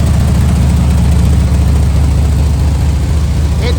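A motorcycle engine drones loud and constant while riding around Pensacola, a dense, low mechanical roar mixed with wind rush, with no clear change in pace.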